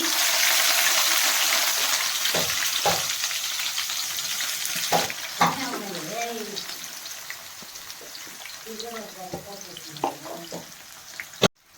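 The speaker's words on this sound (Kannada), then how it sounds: "ಆನಿಯನ್ ಫ್ರೈ ಮಾಡ್ಕೊಳ್ಳೋಕ್ಕೆ ಸ್ವಲ್ಪ ಎಣ್ಣೆ ಹಾಕೋತೀನಿ ಒಂದು ಎರಡರಿಂದ ಮೂರು ಟೇಬಲ್ ಸ್ಪೂನು ಈಗ ಆನಿಯನ್ ಹಾಕೋತಾ ಇದ್ದೀನಿ" Sliced onions fry in a few spoons of hot oil for chicken biryani, a steady sizzle running the whole time with scattered stirring scrapes and clinks. Someone talks over the frying in the middle part.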